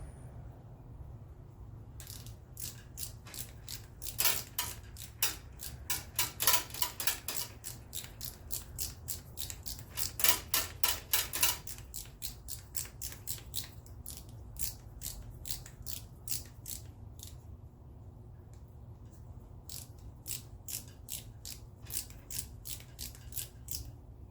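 Ratcheting tube cutter working through a fuel line on an '87 Chevy S10, a steady run of sharp, close ratchet clicks with two denser bursts of rapid clicking, alone over a low background hum.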